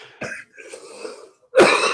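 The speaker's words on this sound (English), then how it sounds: "I told you I was going to cough one more time." A person coughs in separate bursts: a short one, then a longer, raspy throat-clearing stretch, then a loud, forceful final cough close to the microphone.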